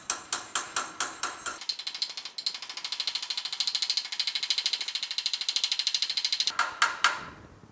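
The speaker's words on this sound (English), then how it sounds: "I got it in the vise pretty tight here, so we should be okay." A steel patch panel is clamped and tightened on a bench for a GTO window channel repair. A steady run of close, crisp ratcheting clicks turns into a rapid continuous mechanical ratchet buzz, then returns to spaced clicks at the end.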